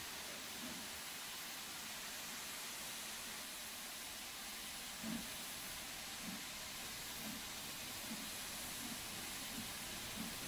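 A steam locomotive in a train simulator game, running a West Coast steam special toward St Erth, gives off a steady, even hiss of escaping steam, with faint low thumps pulsing underneath.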